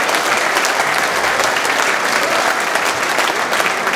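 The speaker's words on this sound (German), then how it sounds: "Aber natürlich wollen wir für den dritten Platz genau denselben Applaus haben" A large audience claps loudly and continuously at a district sports gala during a trophy presentation for team awards, a dense, steady wall of applause filling the room from start to finish.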